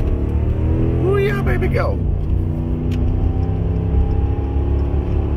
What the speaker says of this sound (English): I'm barely touching it and this thing just rips